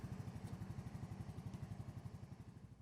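A Polaris ACE 150 engine from the 2018–2021 model years idles with a quick, steady pulsing chug, quiet and even throughout, with no talking.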